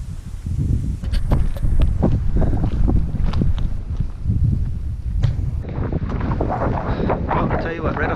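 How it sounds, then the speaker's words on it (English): Strong wind in the Dolly Sods Wilderness buffets the microphone in a continuous low roar, gusting slightly louder and softer throughout, with no voices. "it's constantly windy, constantly breezy"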